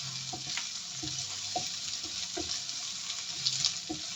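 Green chili sautéing in a pan for a Kerala moru curry, a steady soft sizzle with light stirring scrapes at intervals, close and alone without talk.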